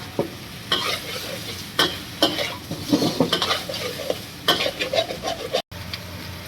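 Eel being stir-fried in a pan, with steady sizzling and repeated sharp scrapes and clinks of a utensil stirring against the pan, close and fairly loud throughout.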